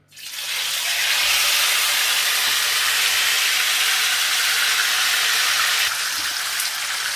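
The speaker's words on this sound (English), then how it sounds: "We're going to fry it in this hot oil for 5 minutes" Fish shallow-fries in hot sunflower oil for a Kerala-style masala fish fry. A loud, steady sizzle hisses close by and stays constant throughout, easing slightly near the end, with no talk over it.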